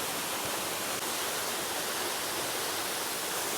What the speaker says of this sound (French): Donc globalement, on est venu pour voir cette super cascade.